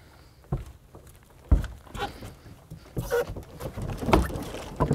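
A Skanu boat scrapes and bumps as it is shoved off into the shallow water of the Indian River Lagoon, with splashes and thuds in irregular bursts nearby.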